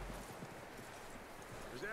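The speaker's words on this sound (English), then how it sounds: "That looks like a decent horse." Horse hooves clip-clopping in the Red Dead Redemption 2 video game, a steady rhythmic patter of hoofbeats at moderate volume beneath a continuous bed of game ambience and voice.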